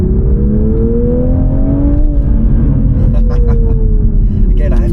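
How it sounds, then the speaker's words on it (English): A Toyota GR Supra with a six-speed manual and rear-wheel drive pulls hard, its exhaust rumbling loud and close while engine tones climb then ease, with a few sharp pops and crackles near the end. "you've got actual exhausts. And yes, it does sound good when you put down."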